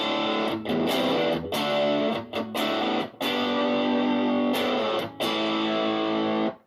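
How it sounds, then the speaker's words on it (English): Electric guitar played through a BOSS DS-1 distortion pedal straight into a clean amp, giving a loud, gritty overdriven tone in strummed chords and short bursts with brief pauses, played alone. "it is definitely possible to get a good, you know, basic distortion overdrive sound out of the DS1 directly into a clean amp."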